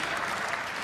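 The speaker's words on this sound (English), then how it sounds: "we can clap for that." A large conference audience at a Google developer keynote claps in a dense, steady burst of applause, close and loud throughout.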